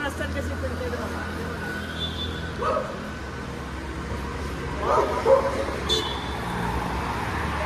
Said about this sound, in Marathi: कुत्र्यांची लफडी